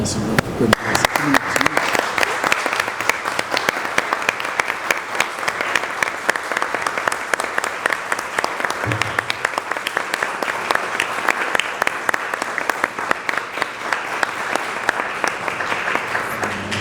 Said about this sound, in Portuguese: Aplaudamos.